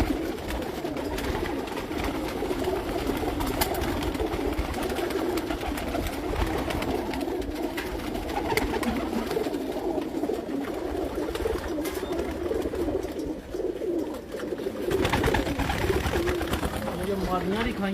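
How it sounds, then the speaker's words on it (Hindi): Pigeons coo steadily through a busy, noisy setting among a breeder's prized birds in Hafizabad, with people talking continuously over the soft, repeated calls. "कबूतर है।"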